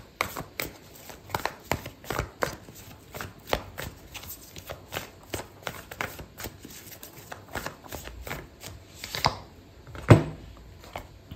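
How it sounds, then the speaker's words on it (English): Repeated soft riffling and snapping of an oracle card deck being shuffled, quick irregular clicks close by, ending with a sharper single snap as a card is pulled out. "I'm going to pull out an Oracle card"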